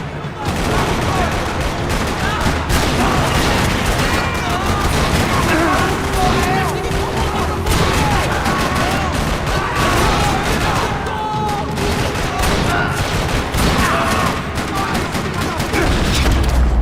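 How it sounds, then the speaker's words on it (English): Dense gunfire rattles across a parking lot in Max Payne 3, sustained bursts of automatic and single shots mixed with impacts, loud and continuous throughout. "Another parking lot rattling with gunfire."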